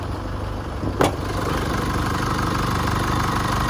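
A 2.8 litre turbo diesel engine in a 2018 Holden Colorado LS-X idles steadily at close range, a low even rumble with one brief sharp click near the start.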